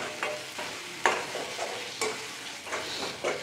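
Green chillies stirred into a frying duck egg curry masala of softened tomatoes, with repeated spoon scrapes against the pan over a soft continuous sizzle, close and moderately loud.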